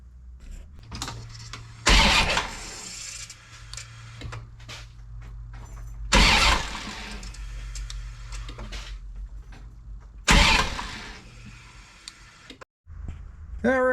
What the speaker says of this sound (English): I bumped the motor around